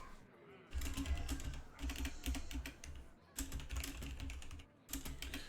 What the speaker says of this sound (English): Yep, just typing away here.